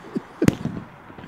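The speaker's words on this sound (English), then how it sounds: "me and you in the park watching the fireworks" A Give Me The Money aerial firework shell bursts in the sky over a park, giving one sharp, loud crack with a brief crackling tail. Softer thumps come before and after it against quiet outdoor ambience, and no one speaks.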